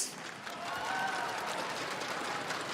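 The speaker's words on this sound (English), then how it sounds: "everybody give yourselves a round of applause," A Counter-Strike esports tournament crowd at a semi-final applauds steadily, a dense wash of clapping at moderate volume throughout, with faint cheering mixed in.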